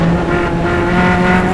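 Single-seater race cars at Mid-Ohio in an SCCA club race, a loud, sustained engine roar with a steady pitch as cars pass close by, no speech.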